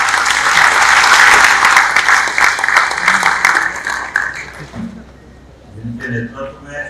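An audience at a public event in Omkareshwar bursts into loud, dense applause for the Prime Minister. The clapping lasts about four seconds, then fades as a speaker's voice returns over a PA.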